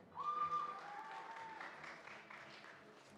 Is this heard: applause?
yes